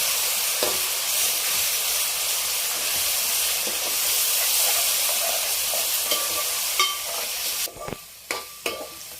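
Ginger garlic paste frying in oil for mutton biryani makes a loud, continuous close-up sizzling hiss, and a few sharp clanks of stirring against the pot break in toward the end.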